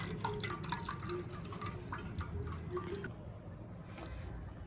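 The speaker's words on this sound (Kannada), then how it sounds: "ಸ್ಟೀಲಿಂದು ಜಾಗಲಿ ತಗೊಂಡು ಅದರಲ್ಲೇ ಸೋದಿಸ್ತೀವಿ" Herbal hair oil made with hibiscus leaves drips and trickles through a steel strainer, a steady soft liquid patter with faint splashy drops close by, no talking.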